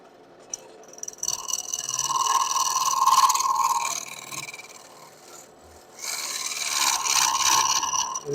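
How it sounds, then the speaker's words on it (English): A woodturning scraper rasps against an out-of-round wooden rim spinning on a lathe, two sustained gritty cutting passes with a pause between, the tool chattering as it hits the uneven edge. "the reason I'm using my scraper on this is because that rim is not round"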